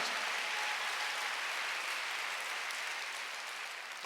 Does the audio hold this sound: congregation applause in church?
yes